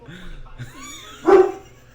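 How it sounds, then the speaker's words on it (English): A big dog lets out a single deep, booming bark near the end, loud and close, following a stretch of people talking and some low whining vocal sounds. "That's a dog? It sounds like a goddamn buffalo."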